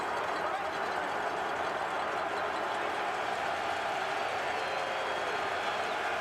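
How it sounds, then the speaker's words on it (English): Partisan football crowd at the Grey Cup between the Montreal Alouettes and Saskatchewan Roughriders, a dense, steady roar of cheering and noise held throughout, with faint broadcast commentary underneath. "The partisan crowd trying to affect the play"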